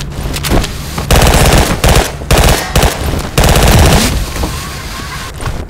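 Rapid bursts of loud automatic gunfire in the shooter game Double Action, clustered volleys separated by brief pauses, with a few single shots scattered among them.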